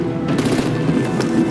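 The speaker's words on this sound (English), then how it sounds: "Break out the artillery and disable their vehicles!" Artillery and gunfire in the video game Batman: The Enemy Within: a dense, continuous rattle of rapid shots, steady and loud throughout, with no voices.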